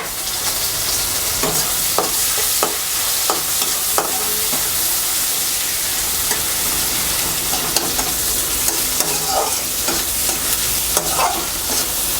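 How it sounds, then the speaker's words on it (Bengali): Onions fry in hot oil for a tomato Katla fish curry. A steady, loud sizzle runs throughout, broken by repeated scraping and clacking from stirring. No one speaks. "তেল গরম হলে এবার দিয়ে দেব পেঁয়াজ পেঁয়াজ দিয়ে দিচ্ছি"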